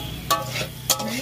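Jackfruit and potatoes are sautéed with spices in a pan. A steady sizzle runs under two sharp scrapes of a spoon stirring the pan, close and alone with no talk.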